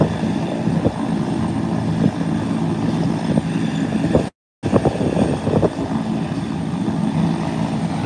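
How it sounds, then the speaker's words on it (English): Two airplanes taxiing on an airport taxiway produce a loud, continuous engine roar and drone, heard from a distance, with a brief dropout partway through and no talk. "Look at these two, they are taxiing from the same taxiway."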